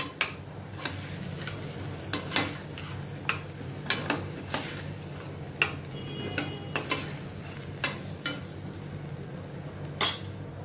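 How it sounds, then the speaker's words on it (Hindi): Lotus stem pieces being stirred into spices frying in oil in a pan, a soft sizzle underneath with regular scraping and clinking strokes of a spoon against the metal, close and fairly quiet. "अभी इसमें मैं ये कमल ककड़ी के ये पीसेस डालती हूँ। इनको अच्छी तरह से मसाले में मिक्स करूँगी।"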